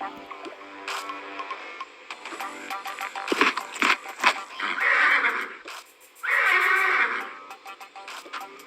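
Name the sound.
horse neighing in the video game Toca Life World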